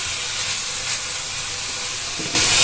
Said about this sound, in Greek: Θα σοτάρουμε πάρα πολύ καλά μέχρι ο κιμάς να αλλάξει χρώμα.